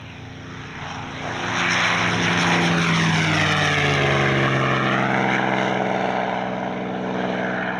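A propeller warbird flies past at the Warbirds Over Scone airshow, its engine drone swelling loud and holding with a shifting, Doppler-like whine before easing slightly as it moves on.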